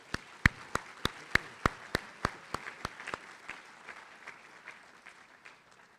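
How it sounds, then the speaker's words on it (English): Applause for the Chancellor at a medical school white coat ceremony: about a dozen sharp, close claps at a steady beat over the first three seconds, with softer scattered clapping behind that fades away. "join me in a round of applause for the Chancellor"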